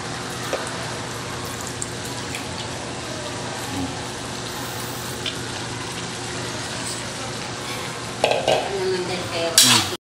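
Liver being stirred into menudo in a frying pan, with a continuous sizzle and scraping stir that runs steadily and ends in a few louder clanks of a utensil against the pan.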